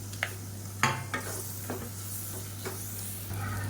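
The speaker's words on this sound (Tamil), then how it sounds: "இப்போ வந்து நல்லா வதக்கி விட்டுக்கலாம்" Tomatoes and green chillies are stirred and sautéed in oil, a soft steady sizzle broken by several sharp scrapes and knocks of a spoon against the pan, close by and with no speech.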